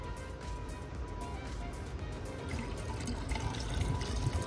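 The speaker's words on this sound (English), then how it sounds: "fill this car up with washer fluid" Washer fluid glugs and trickles from a bottle into a car's reservoir in a one-handed pour outdoors on a blustery day, a soft continuous liquid sound that grows slightly louder toward the end.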